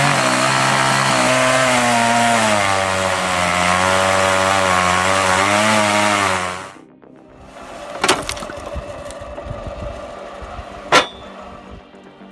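A Poulan 5200 chainsaw howls loudly at full throttle while cutting thick logs, its pitch wavering as it bites into the wood, then cuts out abruptly and leaves a few sharp knocks and clatters.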